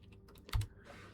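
A computer keyboard clicks through a few quick close keystrokes, one harder thump in the middle, as a command is typed in a quiet room.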